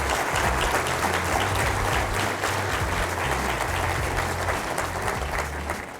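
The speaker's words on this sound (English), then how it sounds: "Let's give a round of applause for Akshara Shankar" A crowd claps steadily in dense, sustained applause, loud and close, fading slightly toward the end.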